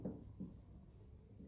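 Pen on paper while working a triangle exercise from a seventh-grade math lesson: quiet, close scratching strokes in a short burst, a couple of firmer strokes standing out.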